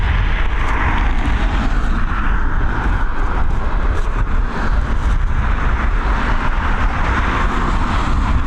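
Jet aircraft climbing out of Dublin Airport, stowing its landing gear and banking right, heard as a loud, steady engine roar that holds without a break.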